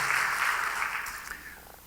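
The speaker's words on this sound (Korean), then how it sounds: "예, 박수로 한번 격려해 주시기 바랍니다." A church congregation applauds its Sunday school teachers during a Sunday worship service, a brief burst of dense clapping that fades out within two seconds.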